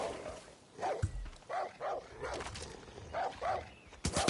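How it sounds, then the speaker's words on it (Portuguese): Rabid dogs in Far Cry New Dawn bark and yip in a series of short, fairly quiet bursts, roughly a half-dozen sharp calls spaced apart, with a louder thump near the end. "Vambora que tem cachorro maluco."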